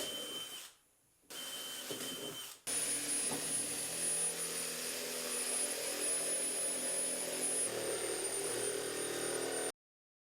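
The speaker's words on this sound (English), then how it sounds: "the jigsaw made quick work of it" A jigsaw cuts an air hole in a plastic piece, starting in a short burst, stopping briefly, then buzzing loud and steady before cutting off abruptly.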